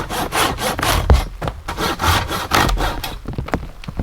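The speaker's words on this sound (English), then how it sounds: "I just used this big 500 katana boy, silky boy, rather than getting the chainsaw" A Silky Katanaboy 500 large folding hand saw cuts through firewood outdoors, with steady rhythmic push-pull strokes, close and loud, and no talking.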